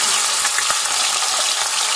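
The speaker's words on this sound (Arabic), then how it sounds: "معاكي عندك بطاطس قطعيها مربعات كده ونزليها في الزيت" Diced potatoes frying in oil as a loud, continuous close-up sizzle with crackling pops and light stirring, steady throughout with no talk.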